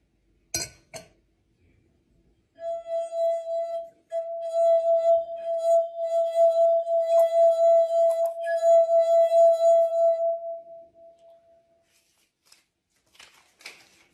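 A drinking glass is picked up with a sharp clink, then rings with a long sustained pure tone for several seconds before fading, followed by faint small taps.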